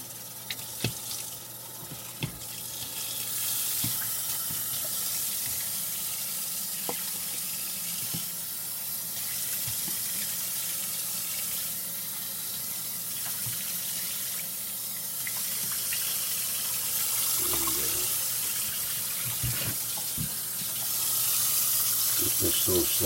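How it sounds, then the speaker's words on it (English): Tap water runs steadily over a George Foreman grill plate in a sink, a continuous close rushing and splashing that shifts slightly as the plate is moved under the stream, with faint low hum beneath. "just rinse this off."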